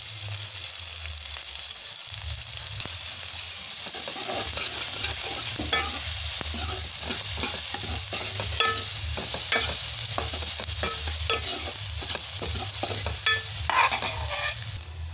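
Chopped onion with cumin, mustard seeds and green chillies fries in hot oil for a sardine curry, sizzling steadily while a utensil stirs and scrapes the pan in irregular clinks, close and fairly loud throughout, with no talking.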